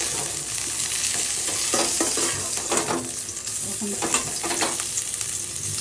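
Ingredients for a bitter gourd kalia with garlic and onion lightly frying in a pan, a continuous close sizzle with occasional scrapes and stirring clatter, fairly loud throughout with no talk.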